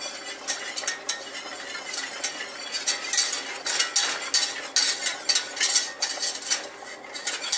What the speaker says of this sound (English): I would do it 1 tablespoon at a time, and whisk it in with the butter